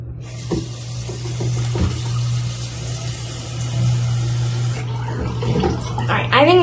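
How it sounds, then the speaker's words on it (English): Water pouring into a mason jar, a steady filling rush over a low hum with a few clinks, ending in a brighter splash, while someone talks nearby. "we're gonna start with putting in some water and then this mason jar"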